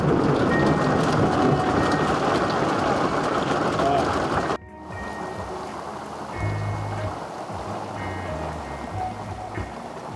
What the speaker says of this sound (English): So with the rainstorms coming in,